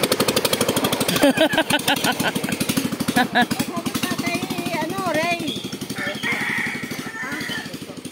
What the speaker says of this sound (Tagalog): Motor ng bangka yan ah.